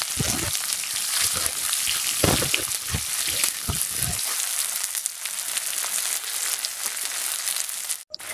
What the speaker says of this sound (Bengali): পেঁয়াজটাকে একটু নাড়াচাড়া করে হাফ ভেজে নেব।